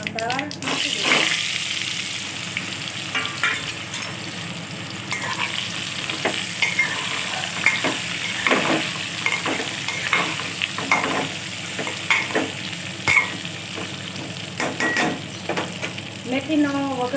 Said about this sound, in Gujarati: મેથીનો વઘાર મિત્રો એટલી સરસ મેથીનો વઘાર કર્યો